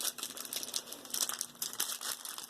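Clear silicone peels away from wax paper with a soft, continuous crinkling and crackling, faint and close, with no talking.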